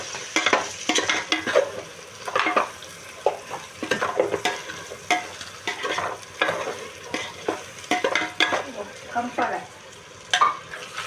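Spices and ground coriander being stirred into mutton biryani masala in a hot pan, with a steady sizzle of frying and repeated scraping strokes of a spoon, close and fairly loud throughout.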